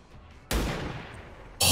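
Two loud, sharp gunshots in XCOM 2 crack out over a quiet background. The first is followed by a long decaying tail, and the second lands abruptly near the end.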